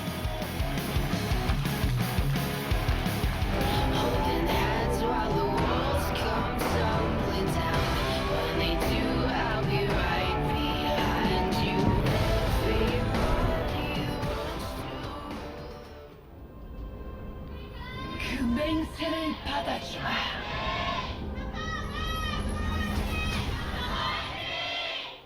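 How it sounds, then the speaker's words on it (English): A live arena crowd at a League of Legends esports match between KT Rolster and Samsung Galaxy, LCK Spring 2016, roaring and cheering loudly for a long stretch, then fading briefly before shouts and cheers rise again. "Cheers from the crowd."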